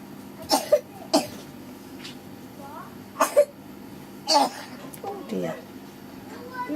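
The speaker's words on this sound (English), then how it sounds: "You've gotten a bad cough" Someone coughs in a fabric cutting workroom, several short, sharp coughs spread across the stretch amid soft voices and room noise.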